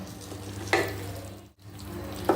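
Eggs are stirred into masala in a frying pan, giving a continuous low sizzle with two short scraping stirs, all close and without talk.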